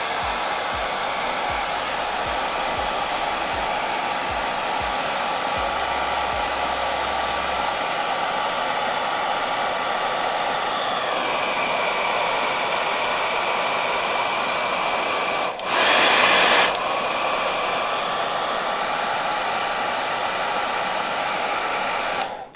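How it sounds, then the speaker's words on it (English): A hairdryer blows in a long steady whoosh, heating the rubber bumper on a Kirby Classic III vacuum, with a short louder burst near the end as the airflow shifts. "Now to do that, we're just going to use a hairdryer"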